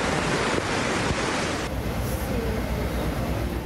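Floodwater current rushing across a road near La Calera where cars and motorcycles were trapped: a steady, loud, broadband roar of churning water that runs without pause from start to end.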